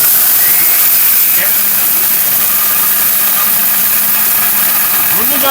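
A Miyako four-jar blender rated at 1250/1400 watts runs continuously, a loud, steady high whirring roar close up, with faint talking underneath.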